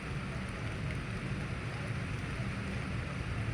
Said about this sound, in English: that's a fucking thunderstorm